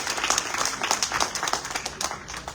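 Audience applause fills a hall at a Kannadasan centenary celebration, a steady patter of many hands clapping at close range for under three seconds, with light voices underneath.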